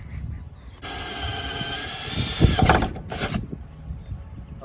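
A power drill bores quarter-inch holes for a spoiler on a Mazda Miata using a dull bit, a loud steady whine for about two seconds, then a short grinding burst and a brief second spin, over quiet background noise.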